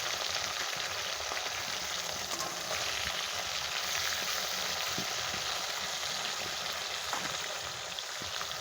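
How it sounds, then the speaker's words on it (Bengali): Tilapia fish frying lightly in hot oil, a steady dense sizzle and crackle that holds evenly throughout with no voices. "তো মাছটাকে আগে ভেজে নিচ্ছি"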